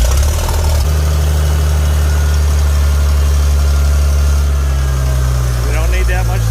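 A Farmall 756 tractor engine runs at part throttle after a choked start, with a loud, deep, steady rumble close by and a voice talking over it briefly.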